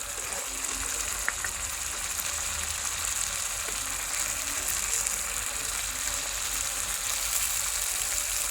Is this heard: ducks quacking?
no